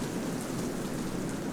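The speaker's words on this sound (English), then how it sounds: "Definitely sounds like rain, so it is frozen rain." Frozen rain falling in the video game Stationeers, a dense steady hiss of drops on a surface, moderately loud and continuous with no talk.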